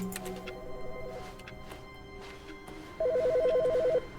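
Telephone ringing in The Stanley Parable, two bursts of a buzzing ring separated by a pause, the second louder, over a quiet background hum.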